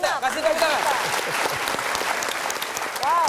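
A studio audience claps during an Indonesian motivational show after a cash gift is counted, a brisk burst of applause with scattered distinct claps, overlaid by a voice speaking and exclaiming throughout.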